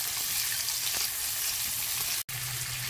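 Tofu fries lightly in a pan, a steady, moderately loud hiss of oil close by that drops out for an instant before resuming, no voices.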